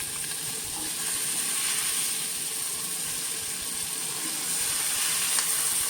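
Chopped onion, carrot and peas drop into a hot pan of oil for a spicy semolina sanja, giving a steady, even sizzle and hiss that holds at moderate loudness throughout with no talking.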